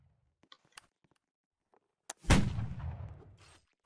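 A musket volley in a video game battle between Gardes Francaises and Danish Grenadiers, with a few faint clicks first, then a sharp crack and a loud blast that rolls and fades over about a second.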